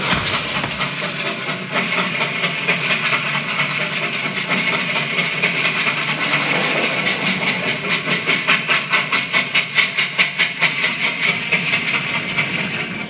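Steam tank engines from a children's railway adventure chuff through a forest setting, a continuous hissing rumble that settles into a steady, rapid rhythmic puffing toward the end, loud and close with no talk.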